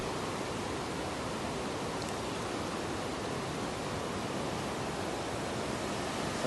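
Small waterfall where water pours through a crack in a holed stone: a constant broadband rushing roar, close and even in level from start to finish, no voices.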